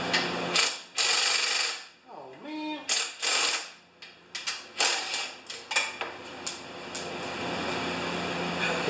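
A ratchet wrench clicks in short bursts as it backs out the head bolts on an Ariens 2+2 snowblower, the rapid ratcheting loud and close, separated by pauses and a short stretch of talk.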